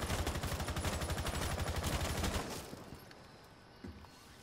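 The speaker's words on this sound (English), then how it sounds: "I'm about to shoot out this window right here." Rapid automatic gunfire in a video game while shooting out a window, a fast burst of repeated shots for about two seconds, then quieter background with a faint thud.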